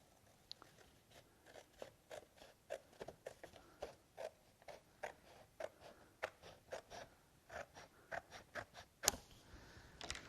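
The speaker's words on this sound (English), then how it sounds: "cut out our main wing" Scissors snip through a corrugated plastic sheet to cut out a glider's main wing, a steady run of short crunchy cuts close by with one sharper, louder snip near the end.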